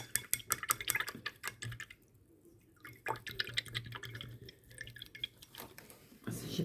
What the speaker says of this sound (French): Maintenant, je vais rincer mon pinceau.